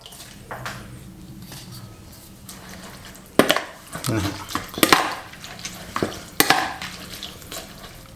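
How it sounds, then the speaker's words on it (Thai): Glass noodles are tossed and mixed into a sauce, giving wet, irregular stirring and clattering sounds from utensils against a bowl, growing busier after a quieter start. "จากนั้นเราก็จะวุ้นเส้นนะครับเพื่อนๆ ใส่ลงไปนะครับ เพื่อคลุกเคล้ากับเจ้าน้ำซอสเรานะครับ"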